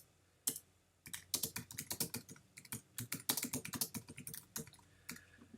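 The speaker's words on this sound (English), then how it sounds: "normally I won't be typing this much" Fingers tap at a computer keyboard in quick irregular bursts of crisp clicks, close and clear, after a brief quiet pause.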